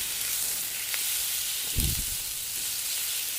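Garlic and ginger paste fries in oil with a soft, steady sizzle and hiss, broken once by a brief low thump of stirring.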